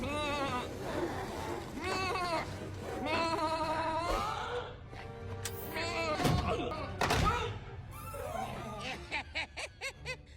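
Sheep bleats from the Ratchet and Clank movie, where a character is turned into a sheep, come as wavering cries among thuds and effects, ending in a rapid run of short pulsed bleats.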